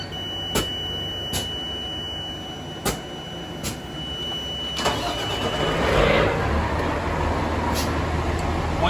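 A Pierce Enforcer fire engine goes through its startup, with sharp clicks and switch sounds giving way to a rising engine rumble that swells near the end, heard close and without talk.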